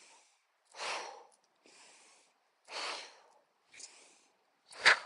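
Slow deep breaths drawn in and let out during a qi gong exercise: a few audible airy inhales and exhales, close and fairly soft, separated by brief pauses, with no talking.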